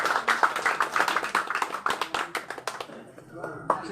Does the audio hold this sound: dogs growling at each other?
no